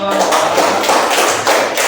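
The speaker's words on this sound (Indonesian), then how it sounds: "tepuk tangan dulu" A fourth-grade class claps together in a classroom, a quick dense patter of many hands sustained for about two seconds, fairly close and loud.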